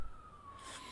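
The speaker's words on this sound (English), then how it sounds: "if you can hear that siren in the background" A siren, likely from an emergency vehicle during a robbery in progress, wails faintly in the distance as one steady held tone under background noise.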